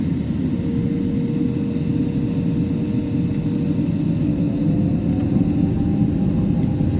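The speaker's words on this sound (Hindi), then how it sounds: "अब जो है दोस्तों आप इंजन की आवाज़ सुन सकते हैं।" A steady, heavy Air China airliner jet-engine roar rumbles on the runway throughout, with a faint rising whine on top; constant and fairly loud, no talking.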